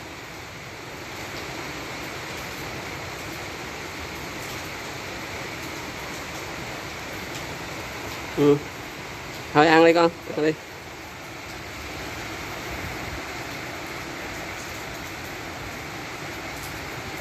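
Heavy rain pours steadily outdoors while pigeons feed, a dense continuous hiss throughout. A person briefly talks over it midway.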